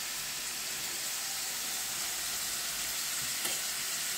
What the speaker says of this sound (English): Things are getting nicely browned up, but they still need a little browning.